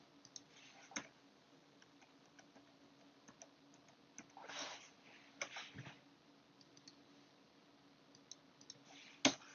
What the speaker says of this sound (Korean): 이 리코더 버튼을 누르고 트래픽을 발생해 보도록 하겠습니다